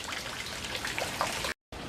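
Water splashes and trickles steadily nearby as dogs play in it, a continuous soft wet churning with no voices, broken by a brief cutout near the end.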